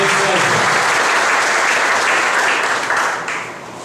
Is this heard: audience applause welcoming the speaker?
yes